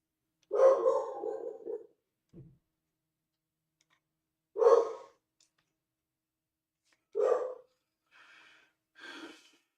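Dogs bark indoors in short, loud, separate bursts, a few seconds apart, with a quieter snort or yelp between them and silence in the gaps.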